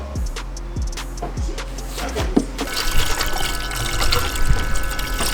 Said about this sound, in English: So this takes 50-50 mix of deionized water and BMW coolant.